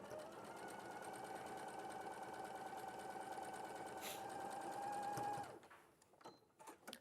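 A sewing machine stitches pinned fabric in a steady, close, even whirr of needle and motor lasting several seconds, then stops and leaves quieter handling noises behind.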